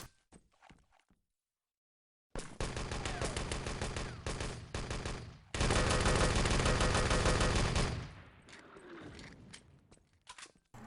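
Dense automatic gunfire from a 6on6 Enemy Territory LAN tournament match, loud sustained bursts with a short pause between two long volleys, then sparser distant shots as the firing fades out.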